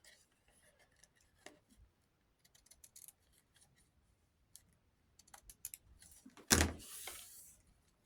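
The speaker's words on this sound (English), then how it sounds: "I'm going to cut the extra lace off" Scissors snip through extra lace on a paper-craft journaling card, a few sparse, quiet clicks and cuts followed by a louder rustling burst near the end, close by and with no voice over them.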